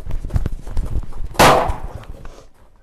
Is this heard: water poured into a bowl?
no